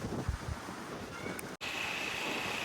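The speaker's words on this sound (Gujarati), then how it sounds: "મસ્ત પવન આવે" Wind rushing against the microphone, a constant broad hiss with low buffeting rumbles and no voices.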